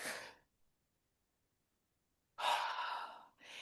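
Two deep, forceful breaths, a short one then a longer heavy exhale, close to the mic, separated by a stretch of silence.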